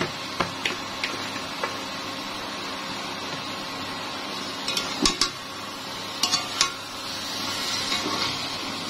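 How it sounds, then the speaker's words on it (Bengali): Kochu loti (taro stolons) and shrimp stirred in a pan, with scattered clinks and scrapes of a utensil over a steady low sizzle, a few sharper knocks standing out near the middle and end. "তো ভালোভাবে নেড়ে চেড়ে নিব"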